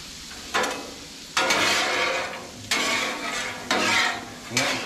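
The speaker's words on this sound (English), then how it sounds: "roll them around with some little garlic herb butter, and get a little saute on these too" Boiled potatoes sautéing in garlic herb butter on a Blackstone griddle, a steady sizzle broken by four loud bursts as the potatoes are stirred and rolled around, with no talking.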